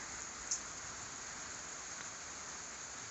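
Heavy overnight rain falls steadily during a windy night, producing a constant broad hiss with no pauses and a single faint tap early on.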